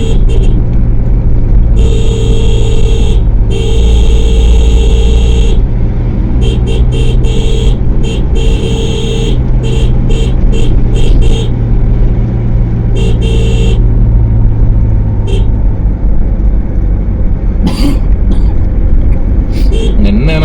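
A vehicle approaches along a narrow single-lane mountain road on the way to Kedarnath, a steady engine rumble with brief horn-like tones, heard under continuous close talk.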